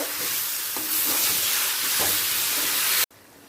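Mustard paste is stirred into taro greens with a fish head in a hot pan, making a constant frying hiss with soft scraping and stirring knocks. The sound cuts off abruptly near the end, leaving a quieter background hiss.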